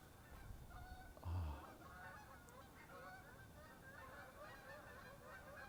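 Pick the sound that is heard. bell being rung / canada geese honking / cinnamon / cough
canada geese honking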